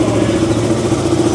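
A used KTM motorcycle engine idles close by at a market, with a steady, loud mechanical rumble and throb that holds throughout.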